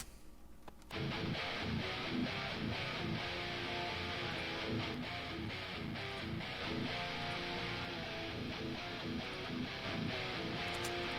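Layered rhythm guitars run through two different amps and a pedal, panned wide, in a thick, heavy, sustained chugging riff that kicks in after a quiet second and plays on without a break.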